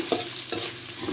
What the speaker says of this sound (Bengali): এখন পেঁয়াজ দিয়ে দিচ্ছি